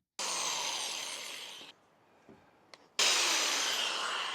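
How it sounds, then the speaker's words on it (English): A 3mm drill bit bores into a motorcycle handlebar during a CRF300 Rally handlebar change, giving a loud, steady whirring grind that runs, stops for about a second, then starts again. There is no talking. "Now the next size is going to be a 3mm drill."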